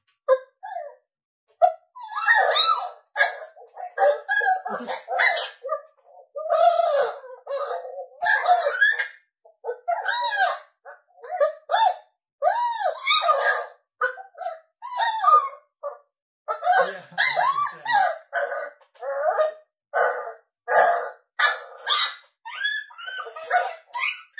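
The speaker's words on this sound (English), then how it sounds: "This next one is Pup Fight CC" Puppies scuffle in a recorded pup-fight sample for a coyote call pack, an unbroken run of close, high yips, squeals, whimpers and sharp barks in quick irregular bursts.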